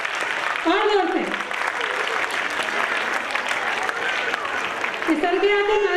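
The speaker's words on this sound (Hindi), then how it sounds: "तालियां बजाइए" Sustained clapping from a crowd at an urdu school's annual function rolls on steadily throughout, with a voice calling out over it at the start and near the end.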